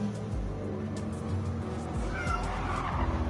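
A person imitates a cat's meow over voice chat during a Gran Turismo Sport racing session, the meows coming through above low engine and tyre noise from the game.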